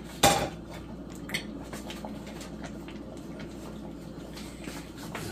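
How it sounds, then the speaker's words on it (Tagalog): A metal spoon clanks sharply against a pot of duck kaldereta with potatoes, followed by a few softer knocks and scrapes as the stew is stirred and a lid is set on, over a low steady background. "Haluin lang muna natin at tatakpan natin ito."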